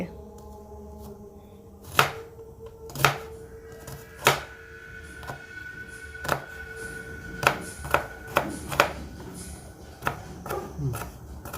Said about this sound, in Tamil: எங்கள் வெங்காயம் வெட்டுற மூஞ்ச கொஞ்சம் பார்ப்போம்